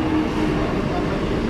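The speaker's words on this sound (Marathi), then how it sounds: "आता आपली लोकल ट्रेन आलेली आहे इथे." A local train arriving at a station platform near Diva and Dombivli rumbles with a dense, steady low roar throughout, loud and close.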